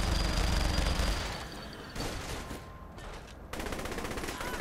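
A grenade launcher fires in the open-world game Saints Row: The Third: loud, dense bursts of gunfire-like blasts that blur into a continuous roar, dip briefly, then surge again.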